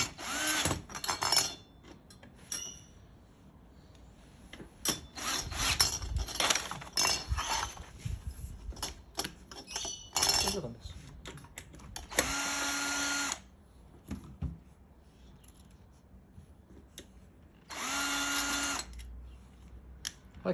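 Power drill driving screws while assembling a Lidl ceiling fan indoors, several short whirring bursts of varying length with clinks and handling noise of parts between them, no talk.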